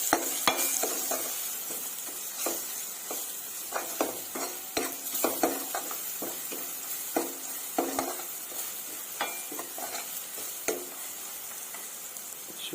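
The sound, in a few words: egg curry frying in oil with spices, being stirred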